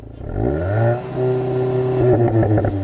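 A VW Golf GTI engine revs up and bounces against its soft limiter, a steady rising drone that holds at a capped pitch with a slight stutter near the end, close and loud.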